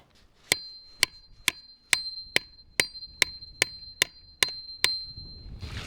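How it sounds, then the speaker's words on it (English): Ten evenly spaced, ringing metallic hammer strikes drive the hook of fencing pliers under a fence staple, each hit sharp and close with a short tonal ring, and no talking. "I need to use a hammer to drive the hook part underneath the staple to help pull it out"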